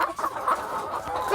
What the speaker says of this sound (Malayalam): ഇതിൻ്റെ ഉള്ളിൽ കുറേ മുട്ടക്കോഴികളുണ്ട്